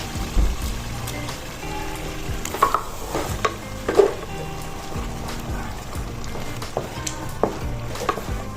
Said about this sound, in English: So now I'll go in with the crayfish we blended earlier.